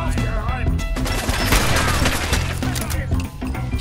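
Gunfire in the video game Fallout 4: loud, rapid bursts of shots and cracking impacts packed densely together, with a brief lull near the end.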